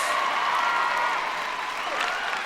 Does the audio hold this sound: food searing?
no